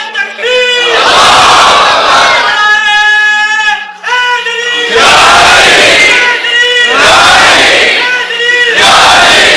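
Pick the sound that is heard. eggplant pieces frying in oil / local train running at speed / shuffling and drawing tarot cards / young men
young men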